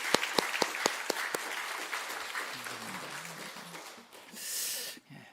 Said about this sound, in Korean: 우리 하나님께 영광의 박수 돌리겠습니다.